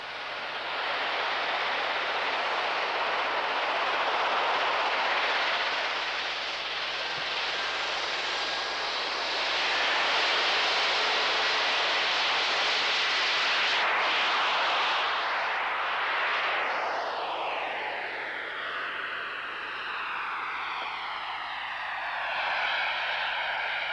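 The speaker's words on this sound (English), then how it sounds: "the first aircraft was taxiing out for takeoff" A jet aircraft at the Euro Jet Circus in Paris taxis out for takeoff, a steady broad roar and whine that swells and sweeps as it passes, loud and continuous with no talking.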